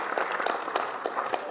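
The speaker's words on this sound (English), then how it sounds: "let's give our band and cheerleaders a nice round of applause" A high school football awards ceremony audience gives a round of applause for the absent band and cheerleaders, a brief, fairly faint patter of clapping from a seated crowd.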